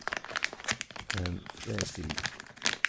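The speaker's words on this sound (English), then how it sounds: "that's the Injora set just being opened up" Plastic packaging of an Injora steel driveshaft set crinkles and tears as it is opened, rustling in short bursts while someone talks over it.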